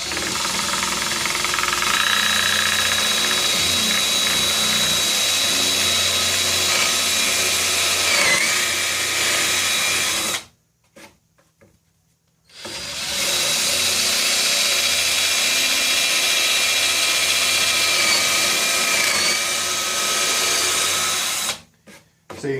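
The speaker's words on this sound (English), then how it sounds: "the drill bit's going to want to try and walk all over the place" A power drill grinds loudly and steadily, cuts out for a couple of seconds, then whirs again at full strength before stopping.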